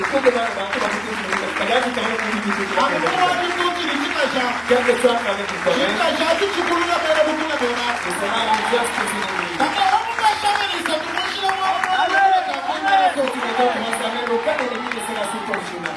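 A church congregation applauding and cheering, sustained clapping with crowd noise running throughout under a preacher's continuous voice.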